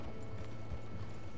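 Hooves clip-clop in a quick, even rhythm as a horse trots in a video game, faint and mechanical-sounding under a low rumble.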